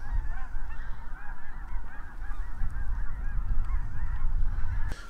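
Snow geese honking in flight, a dense flock's overlapping calls repeating continuously and fairly close, with wind-like rumble underneath and a sharp brief knock near the end.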